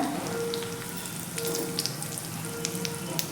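Mustard seeds, cumin and asafoetida tempering in hot oil in a pan, a steady close sizzle with scattered crackles and pops, no talking over it.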